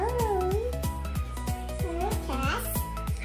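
Cats meow repeatedly near a child's domino counting game, the cries rising and falling over a steady background hum, mixed with a voice and other chatter.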